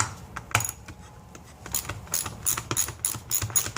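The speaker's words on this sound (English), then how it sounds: "I'm taking out the secondary locking nut." A ratchet wrench backs off a secondary locking nut on an Evinrude 40 HP outboard motor, with bursts of quick, close metallic clicks and a few clanks between pauses.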